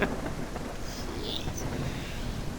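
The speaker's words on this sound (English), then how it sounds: "squally winds, lightning, heavy rain, dark, can't see much" Thunderstorm with heavy rain and squally wind in a survival video game at night, a steady dense rain wash filling the scene with a low rumble underneath, close and continuous throughout.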